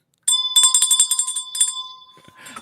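A bright bell ring effect: a rapid run of metallic strikes with a sustained ringing tone, loud and alone, fading out over about two seconds with a faint trailing rustle at the end.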